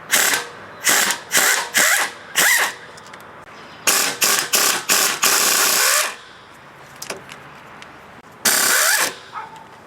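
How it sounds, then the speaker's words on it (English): Power tool removing inner timing cover bolts on a 2000 Chrysler 300M during cylinder head replacement, loud close bursts of impact driving and ratcheting in short rhythmic pulses with pauses and faint clinks between. "now we're going to remove the inner timing cover bolts"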